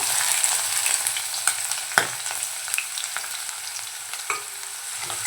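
Finely chopped large onion hits hot oil with goat fat and sizzles steadily, with a clack of a spoon and scraping stirs at intervals, close up and with no voices.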